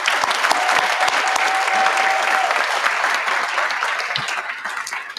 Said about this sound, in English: So one more round of applause for the public officials who are here.